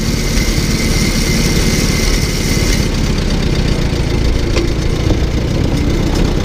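An old tractor engine runs continuously at close range with a rough, chugging mid-range drone, holding steady throughout with a slight shift partway through.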